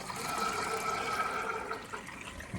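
Water draining steadily out of a Scotsman ice machine, a continuous close rush and gurgle of flowing liquid with no talking.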